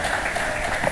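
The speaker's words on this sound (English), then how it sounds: "So please, with a round of applause" Brief burst of audience applause at a decentralized intelligence conference in 2024, a dense, steady wash of clapping throughout, with no clear voices.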